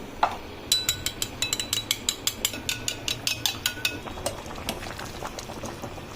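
Five eggs with a pinch of salt and black pepper whisked in a bowl, a fast run of sharp rhythmic clicks and taps from the whisk against the bowl, close by, tapering off toward the end.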